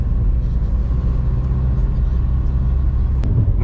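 Car cruising along the Agra–Lucknow Expressway, heard from inside the cabin as a steady low road rumble and engine drone, continuous and even throughout with no talking.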